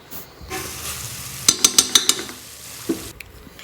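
Washed rice tipped into biryani masala in a pressure cooker gives a quick burst of rattling clinks and a gritty rush, with a faint sizzle around it and no talking.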